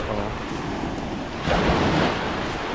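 Ocean waves wash onto a beach at high tide on Siquijor. The surf rushes steadily with a louder surge midway, mixed with wind noise.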